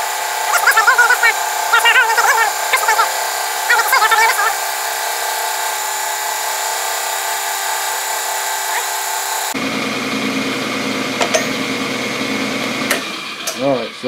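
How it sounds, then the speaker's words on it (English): A drill bores into the edge of a metal part, giving a steady whining motor drone, with short bursts of cutting near the start and a change in pitch partway through. "I'm drilling into the side of it, kind of the edge."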